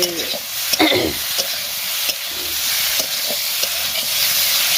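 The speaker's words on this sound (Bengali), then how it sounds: "এটাকে কষাচ্ছি" Steamed cauliflower, kohlrabi and potatoes sauté in a pan, giving a continuous frying sizzle and hiss marked by sharp stirring clinks and scrapes, with no talk.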